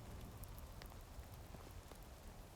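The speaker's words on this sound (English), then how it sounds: "Oh, is it raining in the game?" Rain falls in the medieval survival video game Medieval Dynasty, a faint, steady patter of drops on surfaces with occasional slightly sharper taps, soft and distant throughout.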